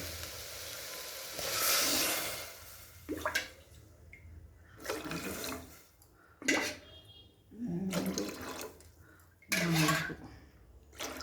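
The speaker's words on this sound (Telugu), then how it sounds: "2 glasses వాటర్ పోయాలి." Water is poured in several separate bursts from glasses into a pot for cooking mint rice without oil, each pour a short splashing rush followed by quieter gaps with faint kitchen clatter.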